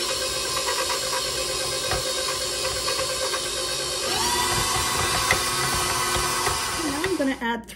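Electric mixer creaming butter, sugar and lemon zest, a steady whirring motor hum that shifts pitch partway through and cuts off at the end, with a voice talking over it.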